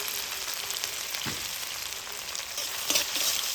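Chopped ginger and green chili frying in a pan with cumin, giving a steady close sizzle that runs throughout, with occasional stirring scrapes and no voices.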